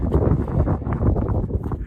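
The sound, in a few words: wind on a mountain top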